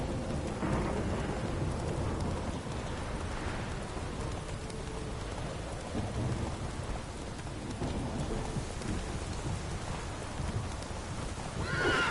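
Geralt's horse Roach neighs in The Witcher 3 video game against a steady backdrop of rain and thunder, with hoofbeats clip-clopping throughout; a whinny rises clearly near the end.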